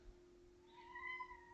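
A pet cat gives a short, thin, rising meow, faint and close, over a low steady hum in a quiet room.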